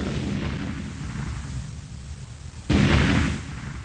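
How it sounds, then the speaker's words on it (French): Gas explosions tearing through a neighbourhood in Kaohsiung, Taiwan, caught on amateur recording: a steady low rumble of fire and debris, then a sudden loud boom that swells and lingers for about a second before settling back. "Les explosions de gaz hier dans la ville de Kaohsiung à Taïwan ont dévasté un quartier entier"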